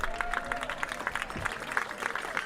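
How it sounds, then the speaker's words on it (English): A crowd at a Cotuit Kettleers versus Falmouth Commodores baseball game gives a steady ovation, a continuous wash of clapping with a commentator talking over it. "he accepts an ovation from this Cotuit faithful crowd"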